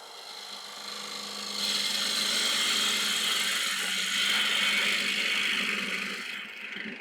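A wood lathe takes a small amount of material out of the bottom of a wooden candlestick, giving a steady whirring hiss that swells louder mid-way then eases off, with no speech.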